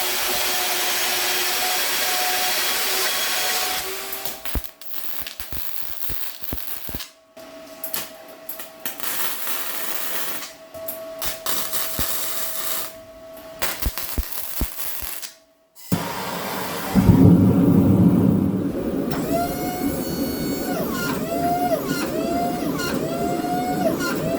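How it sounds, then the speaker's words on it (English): Hydraulic press forging copper damascus billets in a knifemaking shop, with a long mechanical hum and intermittent grinding, hissing bursts, broken by brief pauses, then a louder rough pumping surge with rising whines near the end. "make a little jig for my hydraulic press that's right there so that we can forge them down to about the same size"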